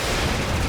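A loud, booming gunshot blast in a scene from the Indian crime drama CID, a short burst of heavy noise close by with no voices.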